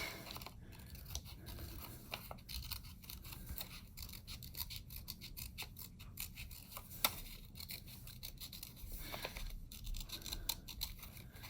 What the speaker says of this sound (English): grab a pair of scissors and cut out your deck